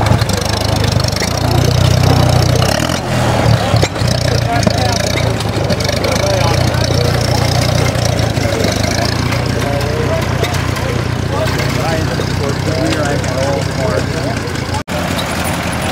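A Ford Model A Doodlebug tractor's engine chugs and rumbles steadily as it drives off, a loud low continuous running note with people talking over it.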